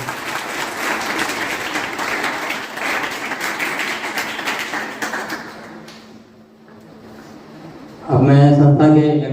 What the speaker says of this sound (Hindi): तालियां एक बार और जोर से।